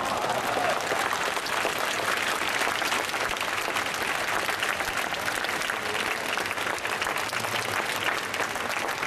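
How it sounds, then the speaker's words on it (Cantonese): An audience at a Hong Kong DBC digital radio station's farewell gives sustained, dense applause that holds at an even level for about nine seconds, with a faint crowd murmur beneath. "希望大家代表我俾個掌聲佢好唔好啊？"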